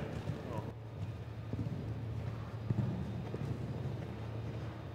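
Horse cantering and jumping over cavaletti during a show-jumping training session, soft hoofbeats and thuds heard near the microphone amid wind noise, with a voice speaking over it.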